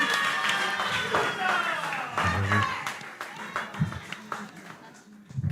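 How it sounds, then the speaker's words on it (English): Audience applause at a talk event, scattered clapping under a speaker's voice that thins out toward the end. "give him a big round of applause"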